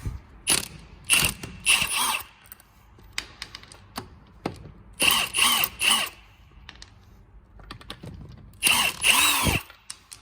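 A Milwaukee power tool fitted with a 17mm socket removes wheel bolts on a Mk4 4motion car, sounding in several loud, close bursts of rapid ratcheting impact hammering separated by short pauses and small clicks.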